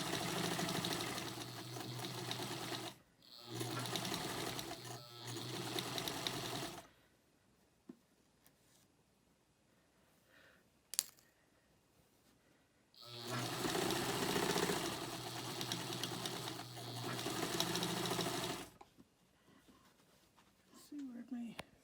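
A sewing machine stitches a quarter-inch seam on a denim quilt block, running in two long, steady whirring bursts separated by a quiet pause with small handling clicks.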